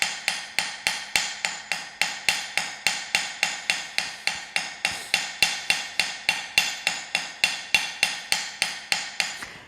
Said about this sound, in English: You can see how gentle I am working. I am not hammering hard.